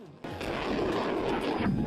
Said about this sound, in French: Une puissante explosion survenue à la suite de la frappe de Neptune a fait un bruit particulier